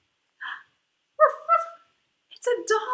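A person's voice imitates a dog barking, giving three separate woofing yips with pauses between them, close and clear against silence.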